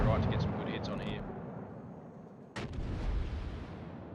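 Naval guns on warships fire shells in a video game, heavy booming blasts with a rumbling tail, then one sharp report and a sustained roar; someone talks briefly over the start of the barrage.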